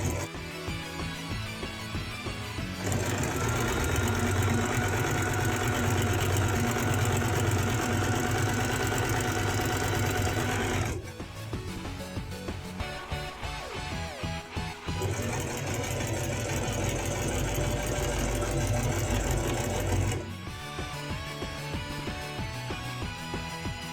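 Home sewing machine stitching fabric for a cosplay costume, two long runs of rapid rhythmic needle chatter and motor hum separated by quieter pauses with handling noise, close and steady.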